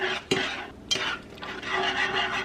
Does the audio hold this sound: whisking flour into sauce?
yes